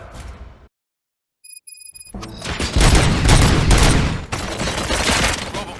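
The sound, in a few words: gunshots in the video game Robocop: Rogue City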